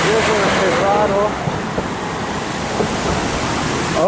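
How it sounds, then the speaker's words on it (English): Water pours steadily from a ditch outflow beside a river in Barva, Heredia, Costa Rica, making a continuous broadband rush that stays close and loud, with a faint voice briefly audible. "oh no, that's just a ditch outflow, not a natural waterfall."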